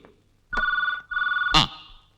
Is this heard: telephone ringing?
yes